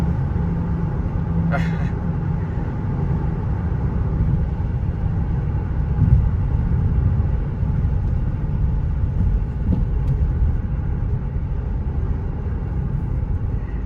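An Audi A3 with a swapped-in S3 engine cruising gently, heard from inside as a steady low engine and road rumble, smooth and even, with someone talking over it.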